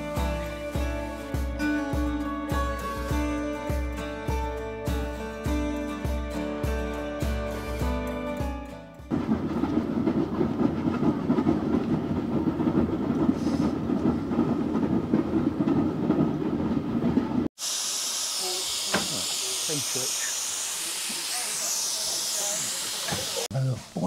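A steam locomotive on the Isle of Wight Steam Railway during a gala weekend, first with rhythmic wheel clatter under music, then a long loud roar of steam venting, and finally sharper hissing and clanks close by.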